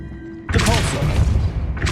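Depulso spell cast in Hogwarts Legacy: after a quiet lull, a sudden heavy magical blast thumps in with a booming, crackling burst that rings on, followed by a second surge at the very end.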